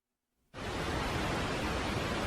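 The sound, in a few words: sonified space recording of Hydra, compressed white noise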